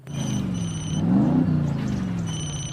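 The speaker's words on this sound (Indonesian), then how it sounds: "ia langsung menyalakan mesin dan tancap gas" Car engine droning and rising in pitch as it revs and accelerates away, a steady close rumble swelling midway then easing, with a faint high electronic tone appearing at the start and end.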